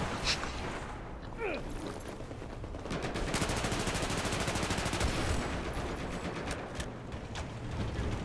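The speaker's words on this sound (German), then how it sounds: "Irgendwas schießt auf mich und ich schieße auf irgendwas." Sustained automatic gunfire in Battlefield 4 multiplayer rattles in rapid continuous bursts, dense and close, with a faint glassy crack early on and a player's voice occasionally under the shooting.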